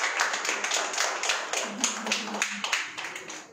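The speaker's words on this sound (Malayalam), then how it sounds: "നമ്മുടെ ടീമംഗങ്ങളെല്ലാം കൈ ഉയർത്തി ഒന്ന് കൈയടിക്കാവോ ഇവർക്കൊരു അഭിനന്ദനമായി" Team members clap their hands together in congratulation, a dense burst of many hands applauding steadily throughout, close and lively, with a faint voice underneath.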